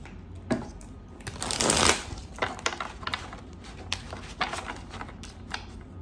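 Tarot cards being shuffled by hand, a steady crisp riffling with a louder burst of flicking near the start and softer papery shuffles continuing throughout, close up with no talking.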